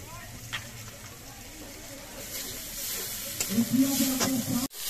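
Green chili paste hitting a very hot wok over a blazing wood fire, a steady hiss and sizzle that swells louder toward the end with stirring scrapes, under someone talking.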